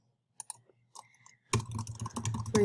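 Typing on a computer keyboard, close and quiet: a few sparse key clicks, then a rapid continuous burst of keystrokes.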